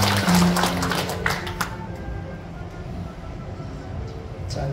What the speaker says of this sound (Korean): 다시 한번 박수 주시기 바랍니다.